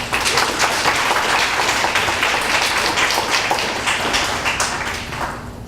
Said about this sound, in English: Let's get a round of applause please for David Carroll.